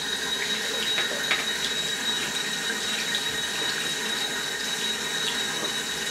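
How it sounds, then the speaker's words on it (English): A makeup brush is rinsed under a running tap, giving a steady, close hiss of flowing water that continues without pause from start to finish. "So I'll rinse it again."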